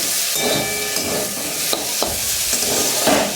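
Potatoes frying in a pan over a low flame, stirred with a spoon: steady close sizzle with repeated scraping strokes and small knocks against the pan, no talking.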